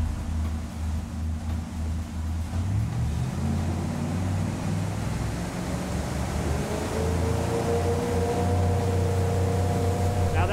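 Motorboat fitted with Bennett trim tabs accelerating hard from a standstill on a hole shot, a steady loud engine roar with rising tonal whine and rushing water throughout.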